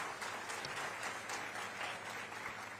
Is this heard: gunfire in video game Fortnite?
no